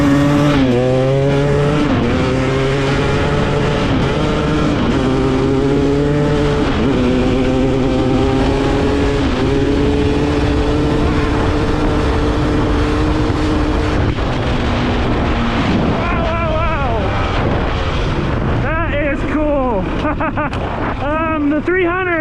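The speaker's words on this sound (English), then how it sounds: "give her a good full throttle test on this road" A 2023 Husqvarna TX300 two-stroke dirt bike revs hard at full throttle on a road, its loud buzzing engine climbing steadily through the gears and staying close and continuous throughout.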